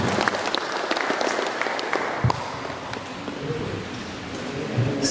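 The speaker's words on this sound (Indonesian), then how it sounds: "tepuk tangan buat kita semua" Dense applause from a crowd at a volunteer consolidation meeting, a steady roar of clapping hands that carries on for several seconds, filling the hall.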